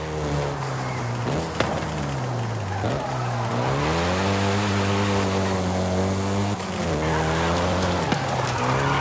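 Engine roar of a Volkswagen Golf GTI driven in the racing game Forza Horizon 5, loud and continuous with rising and falling revs through gear changes and brief tire squeal.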